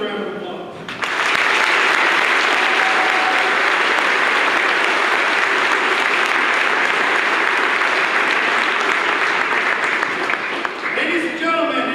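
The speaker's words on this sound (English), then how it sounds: "They deserve a round of applause." A large audience at the Central A & M 2025 graduation ceremony breaks into loud, sustained applause. It swells quickly after a brief quiet moment, holds as a dense wash of clapping for about ten seconds, then begins to thin out.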